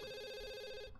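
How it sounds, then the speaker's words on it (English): A telephone rings in The Sims 2 video game, one steady electronic ring tone held for about a second and then cut off, clear and alone. "the phone is ringing"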